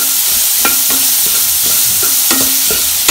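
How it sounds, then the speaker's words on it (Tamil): Chopped onion sautés with fennel seeds in oil, a loud steady sizzle under repeated close spatula scrapes and knocks against the pan. "அத ஆட் பண்ணிக்கிறேன். வெங்காயம் கொஞ்சம் வெங்காயம் நல்லா வதங்கட்டும்."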